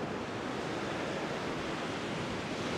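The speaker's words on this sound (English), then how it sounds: "It feels like as the sun goes down, the wind is picking up." Evening wind rising at Coney Island beach on the New York shore at sunset: a dense, steady roar of gusting air and surf, fairly soft and unbroken, with no voices.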